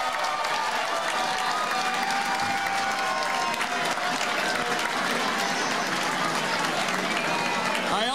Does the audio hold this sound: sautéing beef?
no